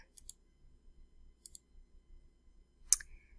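Computer mouse clicks in a photo editing program, a few crisp, close double clicks spaced apart with a louder single click near the end, over a faint quiet background with no talking.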